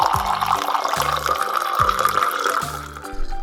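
Water is poured into a drinking glass in an animated kitchen scene, a steady close splashing stream with a light rhythmic plinking tune running beneath it.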